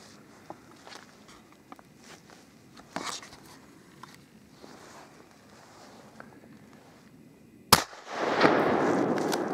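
A single sharp rifle gunshot cracks out while hunting chamois in the French Chartreuse mountains, followed by a rushing echo, after a stretch of faint rustling and scattered small knocks.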